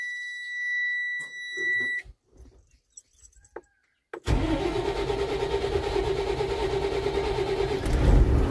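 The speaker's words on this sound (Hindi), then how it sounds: "अब लगाते हैं सेल्फ, रब का नाम लेके देखते हैं गाड़ी स्टार्ट हो पाती है या नहीं" A truck engine is cranked by its self-starter after a service and catches, settling into a loud, steady diesel idle. A beeping tone sounds beforehand.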